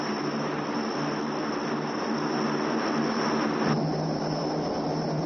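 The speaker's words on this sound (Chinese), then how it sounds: "海军北海舰队某水上飞机部队利用驻地持续低温多雾的天气情况，开展一场复杂气象条件下的海上飞行训练" A Chinese Navy SH-5 seaplane flies over a cold, foggy sea, its engines making a steady, loud, unbroken drone that holds at one level throughout.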